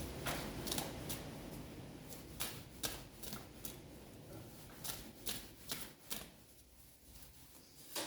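Tarot cards shuffled by hand in a quiet room, a run of soft, close papery flicks and taps in an uneven rhythm, with a card dropping to the floor.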